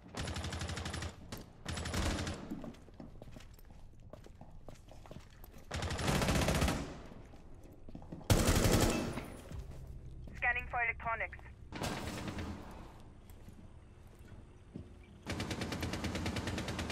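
Gunfire rings out in the Rainbow Six Siege video game in several loud, rapid automatic bursts separated by quieter stretches, with a short electronic chirping and a player's voice talking between the shots.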